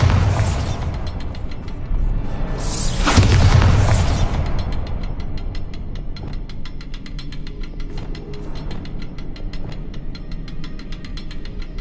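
A Bombarda blasting spell detonating in a Harry Potter video game, a loud booming explosion early on followed by a long rumbling tail and faint mechanical clicking ambience, no voices.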